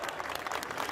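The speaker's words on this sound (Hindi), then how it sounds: "तालियां कम हैं।" Short spell of audience applause at a Hindi comedy poetry show, a soft, dense patter of many hands, faint and distant, with no voices over it.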